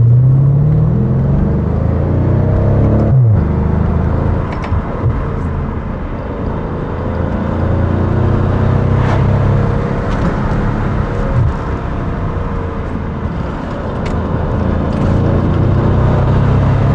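A Maserati Quattroporte GTS, a large four-door saloon, drives along the road with a steady, loud engine and road-noise drone that holds throughout, swelling slightly in places.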